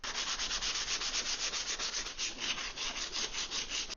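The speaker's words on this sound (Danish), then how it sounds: "Vi sliber det lige og ser, om det så ikke bliver bedre." A glued MDF edge being sanded by hand, giving a steady, continuous abrasive rubbing with quick back-and-forth strokes, close and fairly loud throughout, with no voices.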